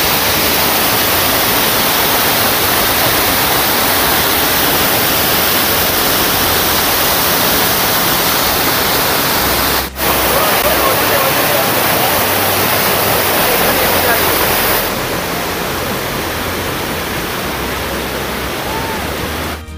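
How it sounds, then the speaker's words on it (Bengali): Bamni Falls waterfall in Purulia, a steady loud roar of falling water that fills the scene without a break, slightly softer near the end. "এই দেখুন ঝর্ণাটা দূর থেকে এইখানে এসে পড়ছে।"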